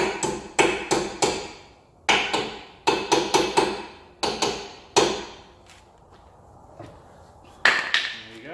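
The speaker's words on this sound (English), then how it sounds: "Hammer them in" Sharp hammer strikes on metal in quick clusters of taps, ringing briefly, close up with short gaps between groups, as pins are hammered in during an Alfa Romeo MiTo repair.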